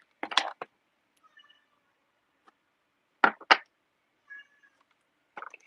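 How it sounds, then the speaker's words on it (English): A cat meows several times nearby in an otherwise quiet room. The calls come in short, separate bursts with pauses between them. "My cat decided to come in and say hi."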